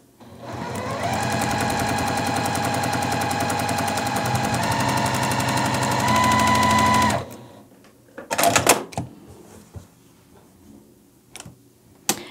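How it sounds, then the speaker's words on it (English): A sewing machine stitches a quarter-inch seam on a Churn Dash quilt block, running in a steady, rapid whir for about six seconds before stopping. Brief clicks and fabric handling follow, with no talk. "So let's just take this to the machine and we'll go ahead and sew"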